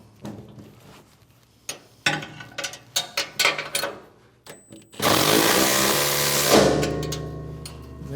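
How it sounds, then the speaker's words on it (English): Clanks and taps of metal parts on a snowblower's bottom auger give way to a loud, sustained burst from an impact wrench tightening the sprocket bolt, close up and lasting several seconds. "I'm going to use an impact here"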